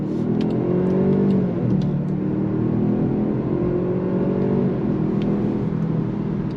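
A 2024 Jaguar XF P300 sedan accelerates in second gear, a steady engine hum rising in pitch with a gear-like drone, heard from inside the cabin, continuous and moderately loud.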